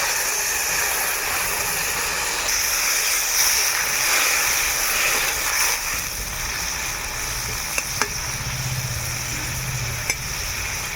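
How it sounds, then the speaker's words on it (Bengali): Cabbage cooking in a pan with a little water, a steady loud hiss and bubbling wash throughout with a few faint clicks near the end. "আমি জল দিয়ে 3 থেকে 4 মিনিট সেদ্ধ করে নেব।"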